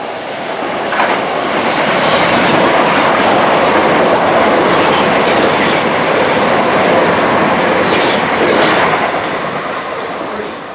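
A Southeastern train runs through Denmark Hill station in London, a loud sustained rumble of wheels and carriages with rhythmic clatter that swells and holds for several seconds before easing slightly.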